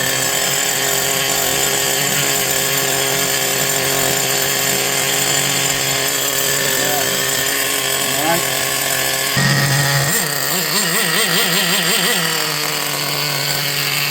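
A Team Associated RC10GT radio-controlled truck pushes through high grass, its small engine giving a continuous high, buzzing whine that rises and wavers in pitch as it bogs and revs, with a voice talking intermittently over it.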